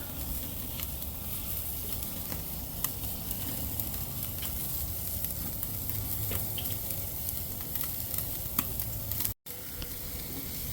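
Tomahawk steaks and lamb chops sear on a Weber kettle grill, giving a steady, close, dense sizzle that holds evenly throughout with small crackles and pops, broken by one brief dropout near the end.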